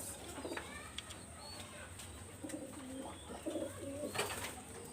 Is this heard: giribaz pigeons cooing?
yes